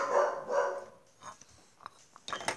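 An annoyed pet dog named Léo barks indoors, two full, fairly loud barks in quick succession followed by softer yips and small sounds, then a sharper noise near the end.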